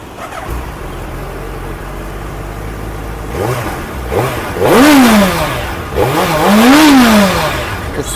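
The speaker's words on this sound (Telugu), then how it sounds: "ఇంజిన్ స్టార్ట్ చేసి సౌండ్ అయితే చూద్దాం ఒకసారి ఎట్లుందో" A Suzuki Hayabusa motorcycle engine catches and revs in a couple of rising, falling bursts, loud and close, after a low idle.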